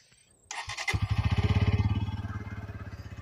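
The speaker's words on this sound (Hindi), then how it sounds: "इसके लिए आपको करना पड़ेगा बाइक को स्टार्ट" A Bajaj Pulsar N150 motorcycle engine cranks and catches, then settles into a loud, steady, rapid putter close by.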